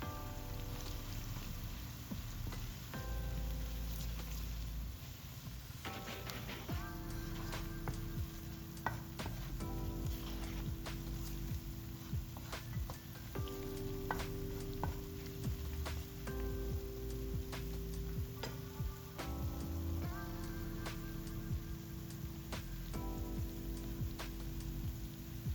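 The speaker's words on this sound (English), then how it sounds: "once the onions and spices are now fried" Onions and spices frying in a pan for red snapper fish curry, a steady soft sizzle with occasional stirring scrapes, continuous and fairly quiet throughout.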